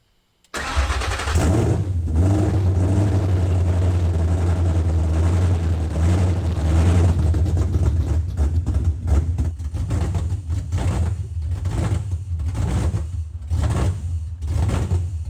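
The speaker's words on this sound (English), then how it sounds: "it was horrendously loud. It idled horribly and then shut off like 15 seconds after we started it." A Boss 302 Mustang engine cranks and fires abruptly, then holds a loud, deep, rough idle. The idle turns uneven and pulsing toward the end, heard up close with no talking.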